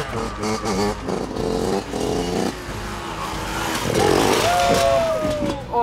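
A motocross bike revs hard during a wheelie contest, its engine roaring and rising in pitch, with excited voices talking and shouting over it throughout.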